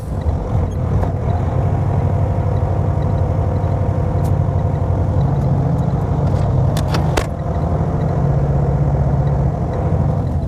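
Semi truck diesel engine running steadily after a restart, following fuel gelling, a constant loud low rumble with a few brief hissing bursts, like air brakes, partway through.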